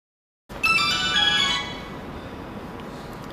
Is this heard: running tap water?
no